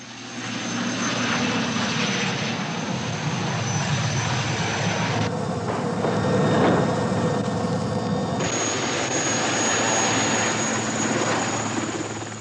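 A military helicopter carrying a British Army airborne demolition party flies overhead, its rotor and engine making a steady, loud drone that swells slightly midway, with no talk.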